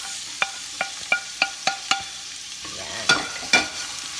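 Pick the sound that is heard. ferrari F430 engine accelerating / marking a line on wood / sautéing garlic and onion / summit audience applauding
sautéing garlic and onion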